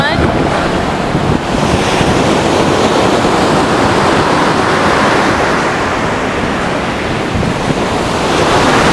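Ocean surf washes steadily onto Horseshoe Beach on a cold day, a continuous broadband roar of breaking waves mixed with heavy wind buffeting the microphone, loud and unbroken throughout.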